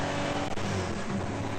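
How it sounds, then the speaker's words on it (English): A BMW E30 race car at Hampton Downs circuit drones past with a rough, uneven engine note, a sustained loud mechanical roar without voices. "BMW doesn't sound completely happy."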